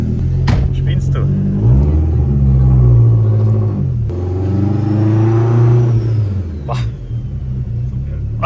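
BMW E46 M3 Compact engine on the move, a loud close rumble that rises and falls through revving pulls and gear changes, with voices talking over it.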